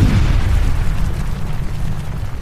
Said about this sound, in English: one day it suddenly went kaboom!